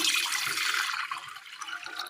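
Water is poured into a cooking pot set on the stove, a close, splashing gush that runs strongly at first and then thins to a quieter trickle.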